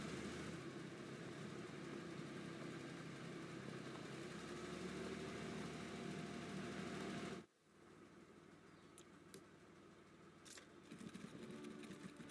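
Tank engine idling in a World War II strategy game, a steady low rumble with a rattling mechanical texture that cuts off abruptly partway through, leaving quieter ambient sounds and a few brief clicks.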